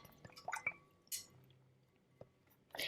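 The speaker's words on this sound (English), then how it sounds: "Okay, I'm going to wash this off." A paintbrush is rinsed in a water pot, making quiet, close drips, sloshes and a few light clinks against the container, with no talk.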